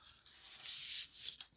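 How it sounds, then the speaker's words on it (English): Paper is creased and folded along a scored book spine, a brief soft rubbing and scraping hiss that swells and fades over under two seconds, close and quiet with no talk. "Now, to fold the spine, on the first 1/2 inch, you want to fold that up."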